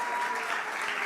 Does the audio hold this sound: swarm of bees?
no